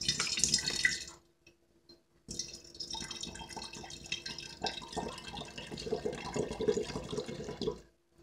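Violet-infused water pours into a bottle, a close trickling splash that stops briefly, then resumes as a steady gurgling stream for several seconds before cutting off.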